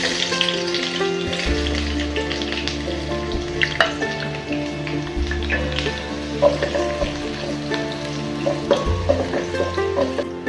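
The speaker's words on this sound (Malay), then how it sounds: "Mula-mula kita tumis bawang merah yang dimayang halus" Finely sliced shallots frying in hot oil, a steady bright sizzle that runs throughout, with a low hum and occasional clinks of stirring, close and without talk.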